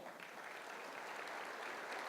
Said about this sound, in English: You guys give him a big round of applause.